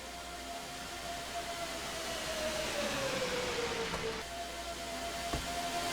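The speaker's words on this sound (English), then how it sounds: "a different high-pitched whine sound as opposed to the deep-throated sound that you got with just a regular exhaust header" NASCAR stock cars at Daytona fitted with X-header exhausts give a high-pitched whine that slides downward as a car passes, over a steady broadband roar of distant engines, with no talking.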